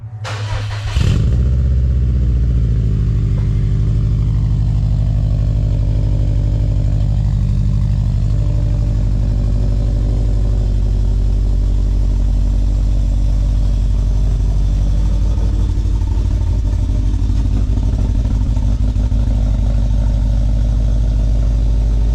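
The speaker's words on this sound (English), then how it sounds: "So with the downpipe and the Cobb exhaust, this is what it sounds like." A Subaru WRX STI engine with a catless downpipe and Cobb exhaust starts with a sharp crank, then settles into a loud, deep, throaty exhaust rumble that holds steady up close.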